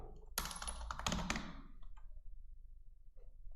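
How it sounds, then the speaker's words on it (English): Quick burst of typing on a computer keyboard, a dense cluster of clicks over about a second, then a few isolated taps against a low steady room hum. "I guess I'm typing the name quickly"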